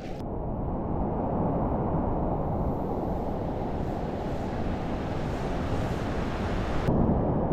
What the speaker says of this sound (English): So check out the waves, man.